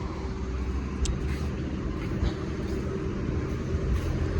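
A car on the road from Kathmandu to Tamgha makes a steady low road rumble from inside the cabin, fairly quiet and continuous, with faint bumps and rattles now and then.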